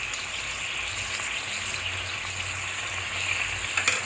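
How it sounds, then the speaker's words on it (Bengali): Chicken sautéing in a pan with chili, cumin and ginger paste gives a steady, even sizzle throughout, with a few louder spatters near the end and no talking. "এগুলোকে ভালো করে এই চিকেনটার সাথে কষিয়ে নিতে হবে"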